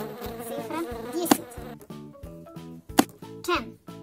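Cartoon-style bees buzz in a children's counting lesson, short rasping buzzes popping up over bouncy background music, fairly loud and close.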